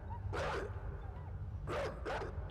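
A dog in the video game Inside gives three sharp barks, the first alone and the last two close together, heard over a steady low game rumble.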